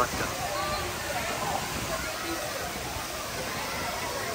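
Park fountain water splashing steadily as a continuous broadband wash at a children's park in Lisbon, with crowd noise and voices faintly mixed underneath.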